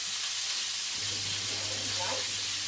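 Chopped onion frying in a casserole for fideus, a steady broadband sizzle running throughout at close range with a faint low hum beneath, no talking.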